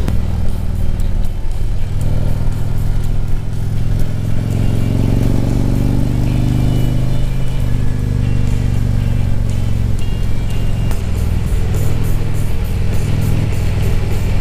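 Harley-Davidson Dyna and Street Glide motorcycles riding through curves, a continuous loud engine drone with throttle rising and falling through the turns, heard close alongside wind noise.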